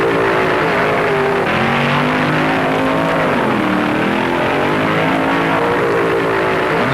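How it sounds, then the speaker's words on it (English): Loud, continuous roar of funny car drag racing engines revving hard during burnouts, a dense wall of engine noise with rising and falling pitch throughout. "The burnouts are sensational."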